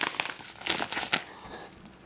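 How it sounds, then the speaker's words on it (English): A package holding a rhino beetle is unwrapped, its paper crinkling and rustling in quick, close bursts with a few sharper crackles, fairly quiet and with no talking. "So let's get started with unwrapping."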